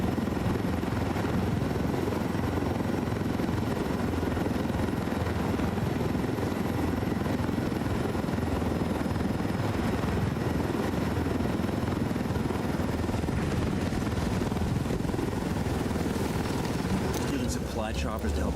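A helicopter in the video game Ghost Recon Wildlands flies with a constant, loud rotor and engine roar that never lets up, while players talk over it.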